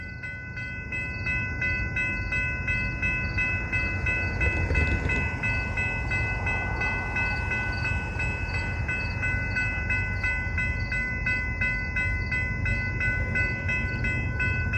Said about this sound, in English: So what do we got for power on this CPKC westbound train?